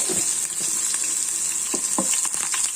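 Shallots, curry leaves and mustard seeds sizzle in hot coconut oil for a tomato curry with ground coconut, with a steady close-up hiss, a few scattered pops and occasional spoon stirs, no voices.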